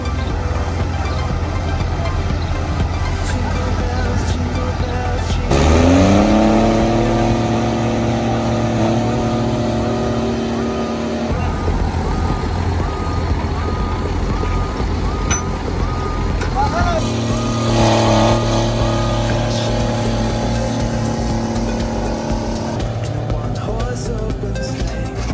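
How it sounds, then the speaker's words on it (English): Heavy vehicle engines roar under load while pulling a stuck truck free, a deep, loud, close droning that swells into two strong revving surges partway through before settling back. "The engines roar, the wheels grip the ground tightly"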